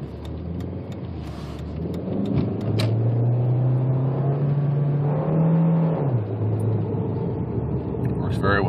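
A 2003 Volkswagen Jetta 1.8T accelerating from about 60 km/h, its engine rising into a steady loud drone that climbs in pitch, holds, then eases off, heard from inside the cabin.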